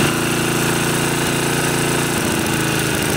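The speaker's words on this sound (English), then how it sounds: "Rev up the engine and to adjust it." A Tecumseh H30 3 hp side shaft small engine runs loud and close with a rough, throbbing putter, its pitch shifting and climbing near the end as it revs.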